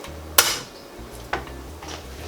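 Unpeeled garlic cloves smashed for poached chicken: three sharp knocks on a board, spaced about a second apart, with a quiet low hum in the room between them.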